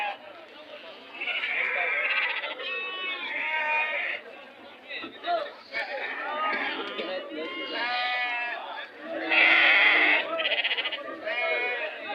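Young sheep or goats bleat repeatedly at a busy weekly livestock market, close and overlapping, with people talking throughout.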